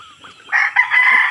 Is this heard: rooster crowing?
yes